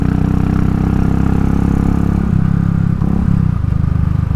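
A Royal Enfield Classic 500 motorcycle engine runs loud and close while decelerating on the road, with a rough, uneven burble and faint popping in the exhaust.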